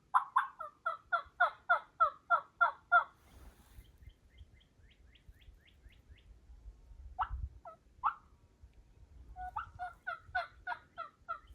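Wild turkeys gobble loudly and close by in rapid, rattling bursts, then fall quiet before a few scattered calls and a fresh run of gobbling, over low outdoor rumble.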